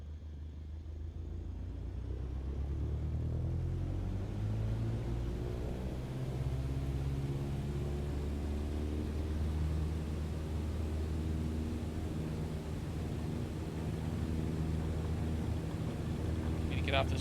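A Cessna 152 in a flight simulator game rolls down a bumpy runway for takeoff, its propeller engine a steady loud rumbling drone that builds slightly as speed rises, with a person talking over it.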